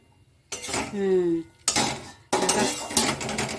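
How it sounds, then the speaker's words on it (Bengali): Metal lid lifted off a pot of steamed drumstick vegetables, giving a close clatter and ringing scrape followed by further clinks of cookware, brief and distinct. "এবারে ঢাকা খুলছি।"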